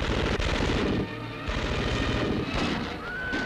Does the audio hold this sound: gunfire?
yes